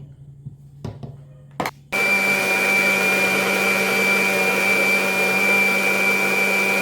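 A few faint taps and clunks, then a blender switches on loudly, blending a mango ice cream mixture with a constant high whirring motor drone that holds steady until it stops abruptly at the end.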